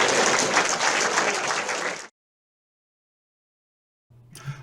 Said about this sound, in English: Big round of applause for Ernie.